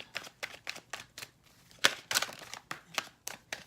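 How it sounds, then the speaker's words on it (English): Tarot cards are shuffled in a steady series of crisp, papery riffles and taps, evenly spaced and close, with no talking. "And as I'm shuffling"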